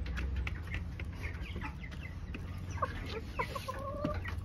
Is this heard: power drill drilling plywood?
no